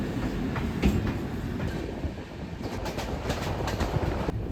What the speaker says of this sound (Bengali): একেবারে নির্ধারিত সময়ে আমাদের ট্রেন রওনা দিল।